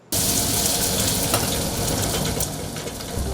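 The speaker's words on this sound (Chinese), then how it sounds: "将产销履历的鲜鸡蛋倒进热锅中，仔细掌握火候，慢慢煎出微微焦香" Fresh eggs poured into a hot pan burst into a loud, sudden sizzle that starts abruptly and holds as a steady crackling hiss, close and alone.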